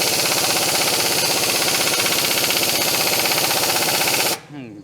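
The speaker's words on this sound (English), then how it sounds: "And oh, compressor's cut in." An air compressor in a workshop where a Citroën C5 is being repaired drones loudly with a rapid pulsing chug, steady for several seconds before it abruptly drops away into quieter background noise.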